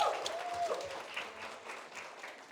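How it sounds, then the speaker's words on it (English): At a seminar, an audience gives a fairly quiet, diffuse round of applause, with scattered claps blending into a steady wash and a faint voice near the start. "Let's give PWC a round of applause"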